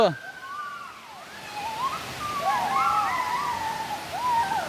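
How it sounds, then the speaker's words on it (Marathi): Steady rushing water from the Ozar waterfall in Sindhudurg, Maharashtra, roars in the background while voices call out and chatter over it. "आवाज येता धबधबा दिसूक लागलो आता इकडेसून"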